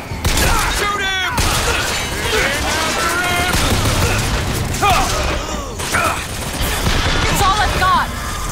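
Combat gunfire in the video game BioShock Infinite, loud and continuous with sharp bursts and impacts layered over game effects, while voices talk over the fighting throughout.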